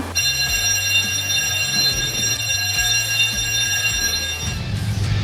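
A loud, continuous electric fire alarm bell rings steadily at a health center during a fire drill, its harsh metallic tone filling the space with no pauses.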